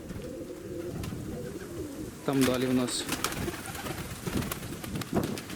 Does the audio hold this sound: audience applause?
no